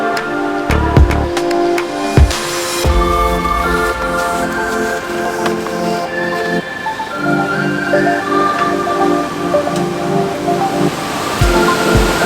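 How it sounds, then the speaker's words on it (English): A waterfall roars as a steady, loud wash of rushing water, constant throughout with no pauses, heard close with some faint tonal hum layered over it. "As you can see, this waterfall is beautiful"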